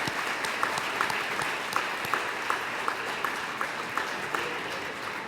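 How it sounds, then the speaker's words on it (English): At a school awards assembly honoring students, the audience applauds the honorees: a soft wash of crowd clapping with one nearer pair of hands beating out a steady, evenly spaced rhythm on top. "let's give one big round of applause for all our honorees today"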